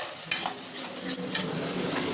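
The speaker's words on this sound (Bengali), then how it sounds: "আর একটু কালো জিরে ফোড়ন দিয়েছি।" Nigella seeds temper in hot oil with a tomato and green chili paste, giving a steady sizzle with a few quick stirring scrapes.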